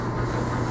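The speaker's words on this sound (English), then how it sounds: "It's actually sharpening the metal away" An old Stanley plane blade being sharpened on a medium grit stone, giving a steady close abrasive rubbing and grinding hiss with no pause.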